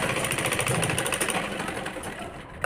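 Sewing machine running fast while stitching lace hem, a dense rapid mechanical chatter at close range, steady and unbroken before slowing slightly near the end, no talk.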